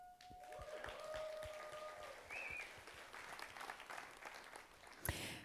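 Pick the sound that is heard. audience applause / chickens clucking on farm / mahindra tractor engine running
audience applause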